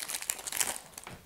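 Crinkling foil wrapper of a Lightseekers Awakening booster pack being torn open, a dense, bright rustle lasting about a second, close and fairly loud with no talk over it.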